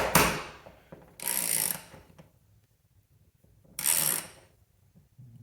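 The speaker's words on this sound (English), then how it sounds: "And then get your ratchet in." A ratchet turns a bolt on a garage paper towel holder shelf mount, giving three short bursts of rapid clicking about a second long each, separated by quiet pauses, fairly close and with no talking.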